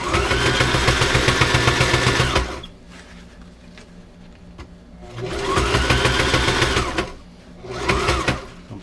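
A sewing machine stitches a cushion in two loud, close bursts of rapid mechanical whirring, separated by a quiet pause and ending with a short final run, with no talking.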